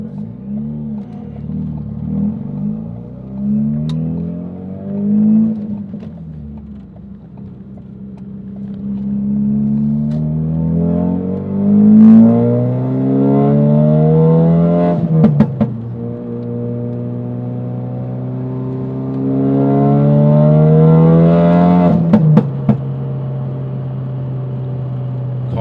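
A tuned 2017 Ford Focus RS engine running on E30 fuel revs loudly up through the gears, pitch climbing steadily, with brief shift pops and crackles between pulls, recorded from inside the car.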